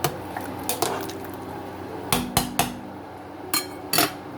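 Eddos, cassava and red onions are stirred in a pot, a spoon knocking sharply against the metal in a few scattered clanks over a quiet background.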